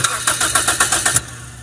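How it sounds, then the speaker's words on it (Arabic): Car starter motor cranking after the relay terminals are bridged, six quick rhythmic churning pulses in about a second, close and loud, then stopping abruptly. "شايفين حضراتكم بدأ تشغيل السلف أهو أول ما وصلت الطرفين دول"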